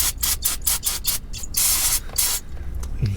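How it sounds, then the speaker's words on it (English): Brake cleaner sprays onto a power steering pressure switch on a Mercury Grand Marquis in a run of short hissing bursts followed by two longer sprays, close and loud, with no talk. "I'm gonna come back with the brake cleaner once again"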